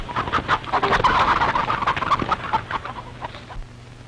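Chickens in a farmyard cluck in a busy, overlapping chorus, loudest early and thinning toward the end, heard alone with no talk.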